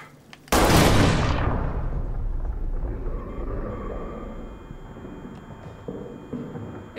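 A grenade blast in the game Amnesia: The Bunker, a sudden loud close explosion after a brief quiet moment, decaying into a long rumbling roar with faint rattles and debris, no talking.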